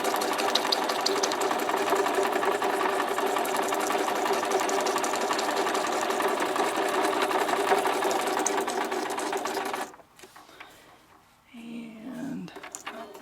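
A sewing machine stitching paper for collage, running fast and steadily back and forth for about ten seconds, close and loud, then stopping abruptly before a few handling clicks.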